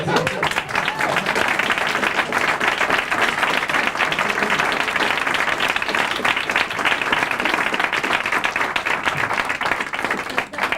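A live stage audience at a magic act claps loudly and steadily, a dense wash of applause holding without a break from start to finish.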